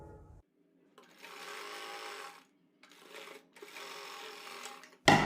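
A sewing machine stitches a fabric neckline in two steady whirring bursts of about one and a half seconds each, separated by a short pause. The machine is close and clear, with a faint clack at the very end.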